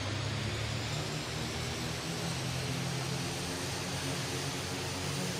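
Steady broadband roar of an aircraft engine held at one third throttle in the Roblox flight game Aeronautica, a constant droning hum with low tonal rumble, continuous and unchanging throughout with no talking.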